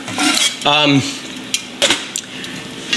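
A metal lid goes onto a pot of simmering homemade hot sauce, a ringing clank and rattle up close, then a few lighter scattered clinks and taps.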